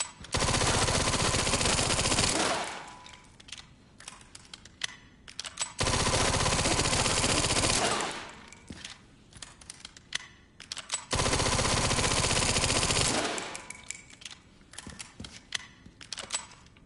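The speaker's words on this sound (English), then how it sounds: "I'm gonna strategically waste a lot of ammo" Automatic gunfire in the video game Resident Evil Requiem comes in three long, loud, continuous bursts of rapid shots, each lasting a couple of seconds, with quieter gaps of scattered clicks and game sounds between them.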